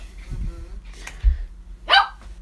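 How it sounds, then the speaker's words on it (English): A dog named Polar barking inside a studio, a few separate sharp barks with a louder yelp near the end, spaced irregularly against a quiet room background. "Can you believe that Polar comes into my studio and barks?"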